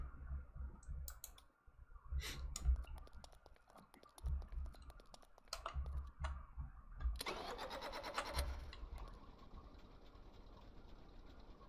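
A modded engine in the Stormworks game cranks and catches, with mechanical clicking, then a steady mid-pitched engine running at even idle.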